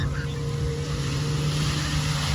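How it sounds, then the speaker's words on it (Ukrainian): A speedboat runs on the sea with a steady, loud motor drone and rushing water and wind noise, continuous throughout with no clear pass-by swell, and a voice faintly in the background. "Також тут їздять на таких швидкісних катерах."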